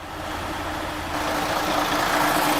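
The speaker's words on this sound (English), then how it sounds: "And then let's start the OM501." A Mercedes Actros 2646 truck's 11.9-litre 460 hp OM501 V6 diesel engine turning over and starting, its steady engine rumble building and growing louder up close, with no talking.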